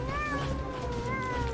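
A cat meows in a long, drawn-out, wavering cry inside the game Megabonk, loud and close over a steady low background hum and game noise.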